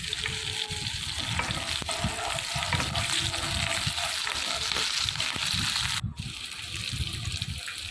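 Whole green chillies and panch phoron fry and get stirred in hot oil, a loud continuous sizzle and crackle with scraping spoon strokes running throughout.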